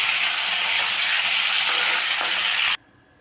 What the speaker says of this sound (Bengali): চিকেনটাকেও একটু ভেজে নেব।